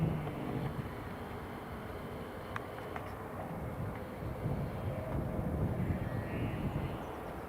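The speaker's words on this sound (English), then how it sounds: "here comes the Emirates A350" An Emirates Airbus A350 airliner passes at Newcastle International Airport, its engines a steady broad roar that swells slightly toward the end, heard from a distance outdoors with some wind.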